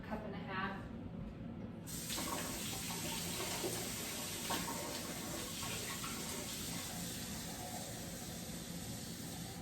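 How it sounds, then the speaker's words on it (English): Water runs from a kitchen sink tap into a measuring cup while bread dough is being prepared, a steady hiss and splash that starts softly and then flows strongly for several seconds. "I'm gonna go to my sink and get another cup, cup and a half"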